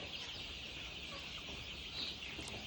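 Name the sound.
chickens moving about on a poultry farm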